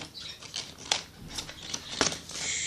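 Scissors snip through cardboard while making a homemade game, a quiet series of crisp cuts and rustles close by, with a couple of sharper clicks.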